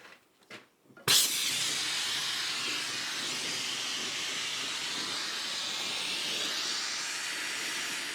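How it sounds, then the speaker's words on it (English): A blacksmith's torch lights with a sharp pop and then roars steadily as a loud, close, continuous hiss, heating the middle of a steel bar for upsetting, after a few faint knocks. "for really short heat in the middle of a bar, a torch is the perfect way to go"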